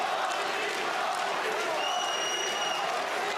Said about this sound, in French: Écoutez la foule qui scande Henri